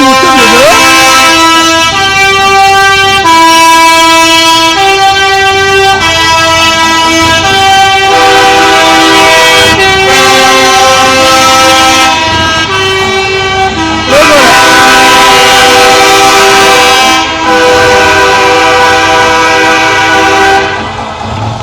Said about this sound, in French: merci beaucoup pour le concert de Klaxon